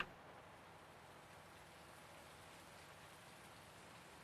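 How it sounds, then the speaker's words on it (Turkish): Steady rain falls in the Farming Simulator 19 farming game, a soft, even hiss that stays quiet and constant throughout with no other sounds. "Yağmurun bitmesine az kaldı."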